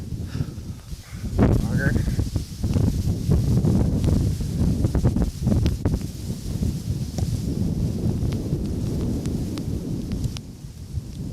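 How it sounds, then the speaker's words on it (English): Strong wind gusts roar and buffet the microphone at a winter campsite in -16º cold, continuous and close, with a man muttering briefly. "So stinking windy all of a sudden."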